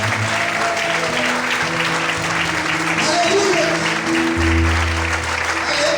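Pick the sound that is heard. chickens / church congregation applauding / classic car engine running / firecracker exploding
church congregation applauding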